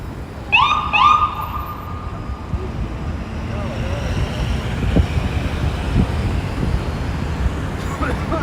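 An FDNY fire truck passing on a New York City street gives two short, loud siren whoops that cut off abruptly. Rumbling engine and road traffic noise continue afterward.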